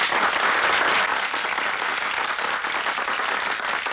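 Loud, dense applause from a large audience in a film scene, steady clapping filling the whole stretch without a break.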